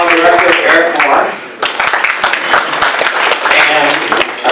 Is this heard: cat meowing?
no